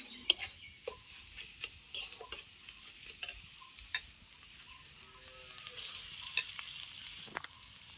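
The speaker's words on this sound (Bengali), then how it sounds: "এই আলুটা দিয়ে আমি ভালো করে কিছুক্ষণ নাড়াচাড়া করে নেবো আলুর সঙ্গে এই পেঁয়াজ রসুন আদাটা ভালো করে" Potatoes stirred with onion, garlic and ginger in a pan: a quiet run of scraping, clinking spoon strokes over a faint, steady sizzle, with no talking.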